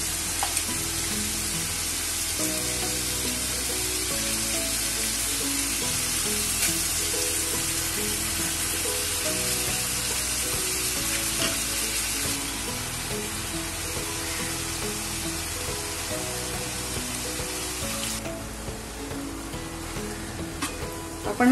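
Finely chopped spinach sizzles and crackles steadily in a hot pan, with faint stirring noises under a continuous hiss. No one talks.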